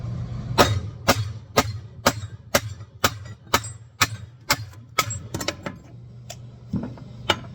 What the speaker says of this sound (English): today I'm going to use my cone and a hammer.